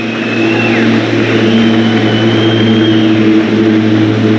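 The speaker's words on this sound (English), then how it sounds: "wait for that plane." An airplane's engine drones steadily overhead with a whining tone rising and falling, loud and continuous throughout.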